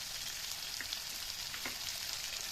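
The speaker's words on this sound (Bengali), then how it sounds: "এটাকে এখন ভাজা ভাজা করবো।" Onion, tomato, chili and boiled potato frying in a pan, a close, steady sizzle and crackle with small pops and no voices.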